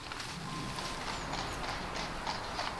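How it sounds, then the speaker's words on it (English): Horses' hooves clip-clop on a road near a Victorian bottle dump, soft, distant irregular knocks under a constant outdoor wash of noise. "Can you hear the clippity clop of the horses?"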